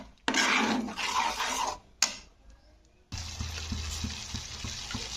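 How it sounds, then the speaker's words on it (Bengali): Fried spices for a South Indian style egg curry are stirred in a pan. Loud bursts of scraping and sizzling come in uneven bursts with short pauses, and a steady sizzle carries on with light utensil clinks. "তো এবারে এটাকে নাড়তে হবে।"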